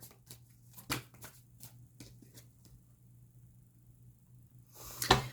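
Cards are drawn from a tarot deck, heard as a series of faint, brief snaps and slides spaced irregularly, followed by a louder shuffling rustle at the end.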